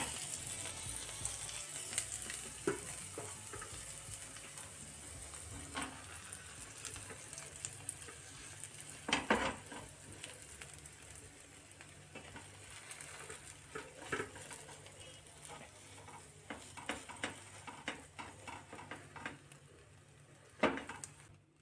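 Cheesy masala egg bhurji with onion and green coriander fries in a pan, a soft continuous sizzle punctuated by scattered scrapes and a few louder clanks of a spatula stirring, heard close and without talking.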